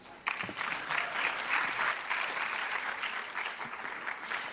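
Audience applause after a panel session at an entrepreneurs and creatives expo in Botswana, a steady, full burst of clapping from a large crowd that starts abruptly and holds at even loudness throughout.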